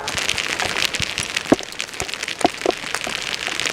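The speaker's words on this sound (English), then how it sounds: "all of a sudden it started raining. You're hearing that." Steady rain falls outdoors at a campsite after cooking on an Esbit dual-fuel stove and cookset, a dense hiss of drops pattering on surfaces with a few louder, sharper drips standing out, and no talking.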